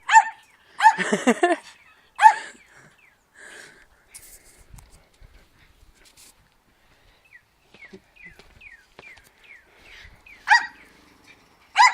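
A dog named Spider barks several times in sharp bursts up close, then breaks off into quieter snorts and growly noises with long gaps, and a few more loud barks come at the end.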